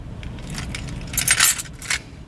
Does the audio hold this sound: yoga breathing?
no